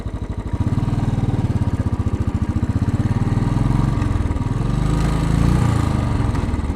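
A Royal Enfield Bullet motorcycle thumps uphill along a city avenue in Queens, its single-cylinder engine pulsing loud and close in a fast, even beat that rises and shifts as it pulls up the grade.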